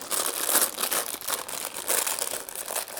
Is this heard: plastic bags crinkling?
yes